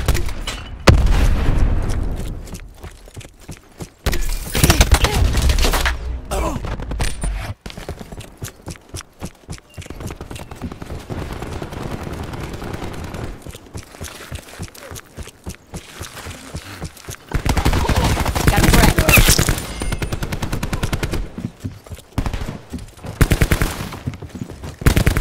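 Artillery strike explosions in the Call of Duty Black Ops 4 video game: loud, heavy booms and cracking blasts come in repeated bursts and clusters, with rattling gunfire between the impacts.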